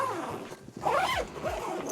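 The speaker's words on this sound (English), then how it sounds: "If we start with the top, this would be a large zippered pocket." A zipper on the large top pocket of a Topo Designs Global Travel Bag Roller suitcase is pulled in a few quick, close, rasping strokes.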